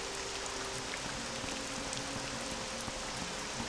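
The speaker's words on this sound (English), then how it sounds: "it'll stop raining in Vivec. But it is not this day." Rain falls steadily over the city of Vivec in the video game Morrowind, a dense even hiss of drops with no pauses and no voices, moderately quiet.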